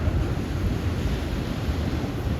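Big sea waves beat against the esplanade sea wall along a Dunedin beach walkway, a continuous rough rumble of surf mixed with wind buffeting the microphone, with no talk.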